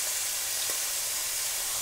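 Chunks of beef browning in a pan for a slow-cooker stew give off a steady, close sizzle of frying fat, unbroken for a couple of seconds.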